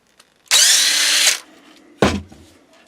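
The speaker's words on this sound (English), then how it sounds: "Gotta take out more screws." Power drill spinning out screws from a servo mount on an Xtraspeed Jeep RC body: one loud, steady whir of about a second, then a short grinding burst, up close with no talk.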